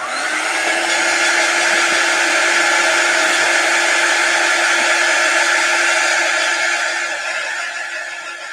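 A hair dryer blows on a watercolor sign, a loud, close, steady whooshing whir that holds constant for about eight seconds before easing slightly at the end.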